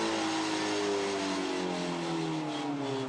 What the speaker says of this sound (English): these Merc engines are copping a battering, aren't they? They rev hard.